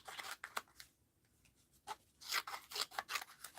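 Scissors snip through paper for art journal clusters in close, crisp bursts of rapid cuts, with a short quiet gap between the runs of snipping.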